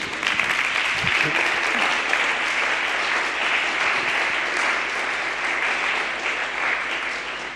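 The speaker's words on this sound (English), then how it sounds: "applause for Marije Vogelzang" Sustained applause from a lecture audience welcoming the speaker at an inaugural lecture, a dense, steady wash of clapping at even loudness for the whole stretch, with a brief low thump near the start.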